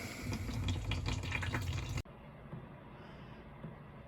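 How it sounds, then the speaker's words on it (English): Engine oil draining from a Mitsubishi Outlander crossover SUV into a pan, a close, steady liquid pour that cuts off abruptly halfway, leaving a faint quiet trickle and drips. "After you notice that the oil is draining well"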